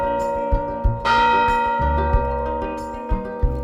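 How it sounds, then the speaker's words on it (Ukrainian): Carillon tower bells in Monnickendam, Netherlands strike the hour, ringing out close and resonant, several strikes overlapping with long sustained tones that hum and fade between hits. "тишу час від часу порушує вежа Карельйон, що сповіщує годину"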